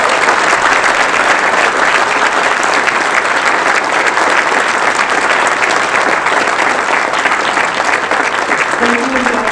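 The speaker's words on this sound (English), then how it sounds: "Let's give them a round of applause." Loud, sustained applause from a crowd at the Radical Center Awards, a thick continuous wash of clapping, with a brief voice near the very end.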